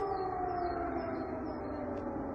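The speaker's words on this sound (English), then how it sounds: "Sirens has become the new soundtrack of my life." A distant air raid siren in wartime Ukraine wails in a long sustained tone, steady and faint, with no talking.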